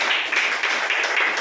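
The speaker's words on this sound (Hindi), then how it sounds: "तो एक बार इनके लिए जोरदार तालियां।" Audience applause for a guest introduced on stage at an event, a steady wash of clapping filling the whole moment without pause.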